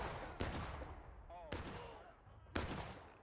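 Three sharp rifle volleys crack out roughly a second apart in the Civil War game War of Rights on a farmland map, each echoing away, with a faint distant whistle between shots.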